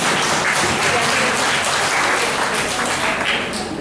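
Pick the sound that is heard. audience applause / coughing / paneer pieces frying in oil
audience applause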